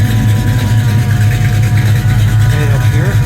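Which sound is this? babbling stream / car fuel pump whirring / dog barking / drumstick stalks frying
car fuel pump whirring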